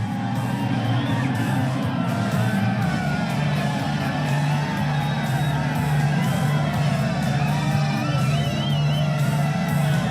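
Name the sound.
São Silvestre race crowd cheering at the finish line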